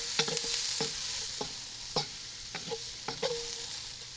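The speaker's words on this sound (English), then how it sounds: "Found my wooden spoon, by the way. Just going to give that a stir." A wooden spoon stirs a breakfast scramble of Polish sausage and onions on a Big Green Egg grill: repeated scraping strokes in an uneven rhythm over a steady low sizzle.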